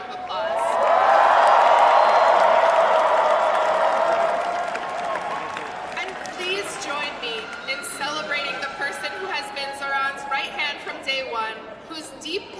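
Crowd applause and cheering at a campaign victory speech, a loud burst of clapping with whoops that swells for several seconds, then fades as a speaker's voice resumes over scattered claps.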